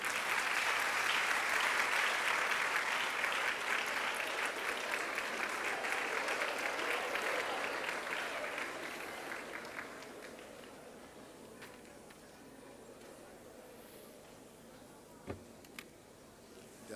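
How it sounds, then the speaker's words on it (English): An audience at a memorial lecture applauds the governing council chairman, loud sustained clapping that gradually fades over several seconds into quiet room noise with a few isolated knocks. "Shall we please applaud him?"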